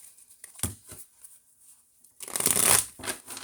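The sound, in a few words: shuffling a deck of cards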